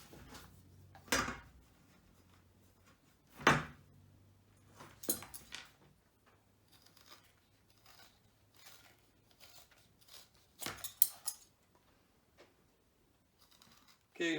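Scissors cutting material along straight lines for an axe or Pulaski head cover, producing intermittent close snips and rustles with pauses between cuts, quiet overall, with no one talking.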